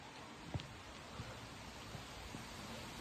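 Rain falling over a garden, a faint, even hiss with a few slightly louder drop taps scattered through it.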